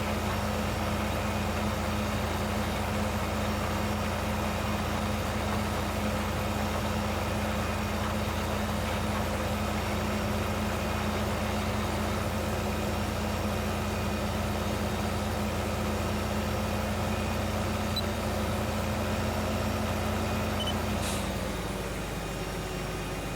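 Tractor engine running in Farming Simulator 15, a steady droning mechanical hum held for a long stretch at constant loudness, dropping off briefly near the end, with no talk.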